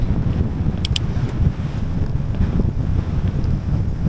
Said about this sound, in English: Ooh, this wind is brutal. It's really hard going.